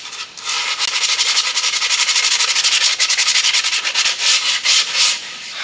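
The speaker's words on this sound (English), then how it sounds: "It's going to take a lot more sanding than what we're doing to disform the wood." Continuous sanding scrapes paint off a solid body electric guitar, a loud, close, rhythmic rasping of steady back-and-forth strokes with no talk.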